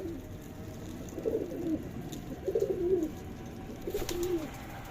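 A small male pigeon at a pigeon farm in Rajshahi, Bangladesh, gives three repeated cooing calls at a steady pace, close by and fairly clear over a quiet background.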